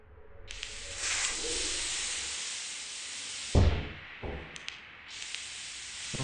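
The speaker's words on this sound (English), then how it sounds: "Steam leak." A steam leak hisses in the video game Lethal Company as a steady, broad hiss that cuts out and restarts, with a few soft thuds underneath.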